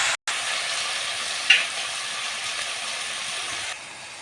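Tomatoes, onions and green chillies are stirred in a hot pan while cooking brinjal curry, giving a steady sizzle with soft scraping, briefly louder around the middle, and no talking.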